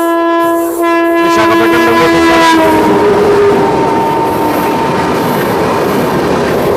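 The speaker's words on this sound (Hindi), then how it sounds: "कोई ट्रेन हाई स्पीड क्रॉसिंग के लिए आ रही है" The Puri Ahmedabad Superfast Express, hauled by a WAP 7 electric locomotive, passes at high speed beside a train halted at D cabin: a loud horn blast, then a close, sustained roar and rattle.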